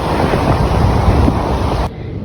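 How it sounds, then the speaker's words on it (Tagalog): Big sea waves crash onto a beach while strong wind buffets the microphone, making a loud, continuous roar of surf and gusts that drops away abruptly near the end. "Tapos super lalaki ng alon. Ang lamig, lakas ng hangin."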